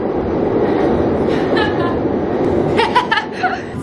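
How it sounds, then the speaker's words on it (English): A Chicago elevated train passes close by an apartment, a loud continuous rumble and roar throughout, with a voice and laughter briefly over it near the end. "minus the train that comes by every like 3 minutes"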